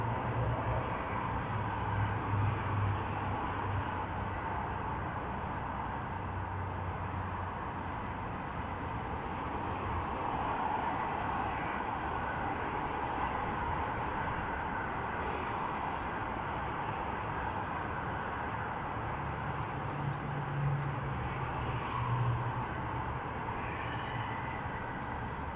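Highway traffic flowing in both directions makes a faint, steady, distant rumble with gentle swells as vehicles pass.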